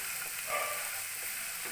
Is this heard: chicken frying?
yes